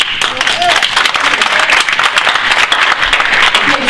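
Crowd clapping at an outdoor political rally against a bridge project, a loud, continuous wash of many hands with scattered voices mixed in.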